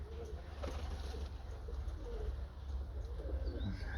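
Pigeons coo softly and repeatedly outdoors over a steady low rumble of background noise, with faint chirps here and there.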